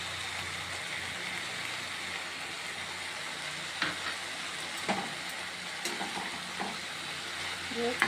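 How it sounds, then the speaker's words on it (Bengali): Food seasoned with salt and turmeric sizzles softly in a pan as it is stirred, a steady low hiss broken by a few sharp scrapes and clinks of the spoon against the pan. "ভালো করে নাড়াচাড়া করলে যতক্ষণ না হলুদের কাঁচা গন্ধটা যায়।"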